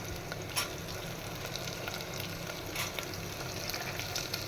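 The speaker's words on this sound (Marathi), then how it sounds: "आता आपल्याला भाज्या परतवायच्या आहेत." Capsicum, carrot and onion sauté in oil for dal khichdi, making a dense, even close sizzle with a few louder spatters and stirring scrapes.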